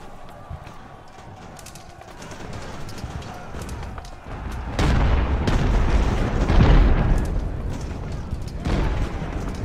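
Ship cannons fire in Ultimate Admiral: Age of Sail during an amphibious landing, loud booms over busy battle noise with hooves and birds, the firing growing heavier partway through.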